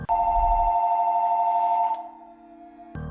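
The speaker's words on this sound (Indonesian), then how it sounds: "Lalu tiba-tiba telepon berdering kedua kalinya." A telephone in a house in the horror film Smile rings loudly with a sustained electronic bell tone, stops abruptly, falls silent, then starts ringing again at the end.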